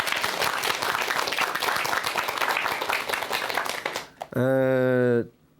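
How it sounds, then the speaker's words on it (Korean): Lecture audience applauding: dense clapping from many people for about four seconds that fades out, followed by a loud, sustained tonal sound that cuts off abruptly. "동의하시면 박수 한번 주시기 바랍니다."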